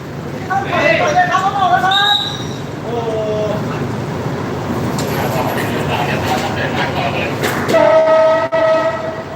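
A train at Nakhon Pathom railway station in Thailand, with a horn sounding briefly near the start and again near the end over steady rumbling and background chatter.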